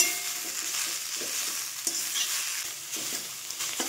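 Washed coriander leaves are stirred in a pan to dry them, giving a steady soft sizzle under repeated scraping stirs close by, with no talk.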